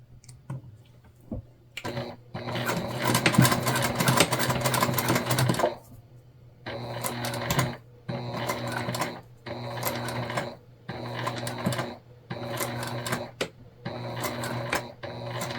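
Sewing machine top stitching a crossbody bag, running in one long burst followed by several shorter rhythmic bursts with brief pauses between, close and steady.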